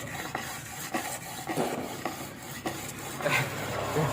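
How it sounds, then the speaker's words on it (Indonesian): 100-grit sandpaper rasps back and forth in steady, rhythmic strokes, close by and fairly loud, with no talking. "Pakai amplas 100, nanti kita akan finishing dengan amplas 400 bertahap, Mas Teh."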